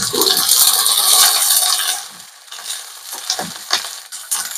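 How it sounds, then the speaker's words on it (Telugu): Chopped onion, green chilies and curry leaves hiss loudly in hot oil for a spiny gourd fry. The sizzle is close and strong, then fades into quieter stirring and a few scattered clicks. "కొంచెం లైట్గా ఆనియన్స్ వేగాయండి."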